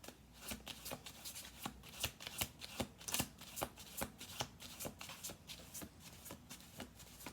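Tarot cards are shuffled close up, giving a quiet, repeated riffle of soft slaps and flicks in an irregular rhythm, with no talking.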